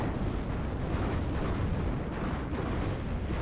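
Heavy artillery and cannon fire from Gepard anti-aircraft guns and Jagdpanzer tank destroyers in the WARNO strategy game, a dense, continuous rumble of blasts and bursts rolling on without pause at moderate loudness.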